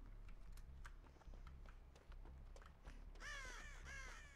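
Crows cawing in the horror video game Dead by Daylight, a burst of several harsh, close caws near the end after quiet ambience and keyboard tapping.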